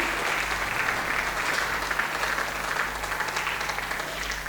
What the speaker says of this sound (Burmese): အားလုံးလက်ခုပ်တီးပြီးတော့မှဂုဏ်ပြုပေးကြရအောင်နော်